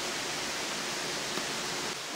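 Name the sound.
rain falling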